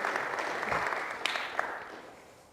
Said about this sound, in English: Everyone give Lizzie a round of applause for helping me.